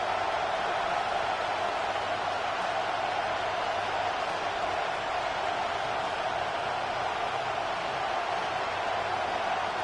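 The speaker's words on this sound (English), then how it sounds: "Crowd getting in it a bit already." Crowd noise fills a football stadium during a Cardinals vs Saints game, a steady, broad roar with no peaks, continuous throughout and at moderate level.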